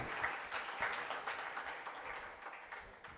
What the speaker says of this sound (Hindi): तालियां बजनी चाहिए आपकी।